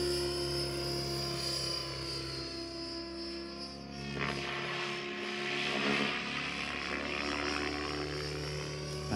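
A radio-controlled model helicopter flies 3D stall turns: a continuous rotor and tail buzz, moderately distant, with the pitch and loudness swelling and dropping as the model pulls up, turns and dives.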